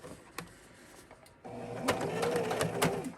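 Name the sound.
sewing machine stitching a stocking side seam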